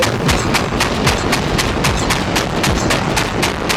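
Cannon fire from a mech in Mecha Knights Nightmare: a rapid, evenly spaced series of sharp, punchy shots, about a dozen reports, loud and close over a rumbling background with no speech.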